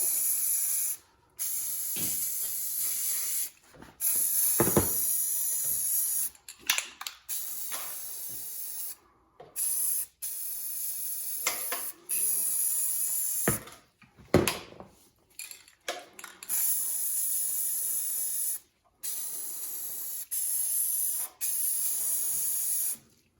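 Repeated bursts of black spray paint hiss loudly from a can while customizing game controllers, each lasting a second or two, separated by short silences and light rattling.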